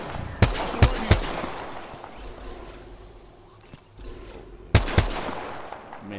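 Enemy gunfire in Apex Legends: sharp bursts of shots, a quick triple volley near the start and another cluster near the end, with quieter rumbling gameplay between.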